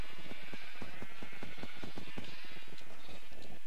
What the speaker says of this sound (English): There's too many sheep!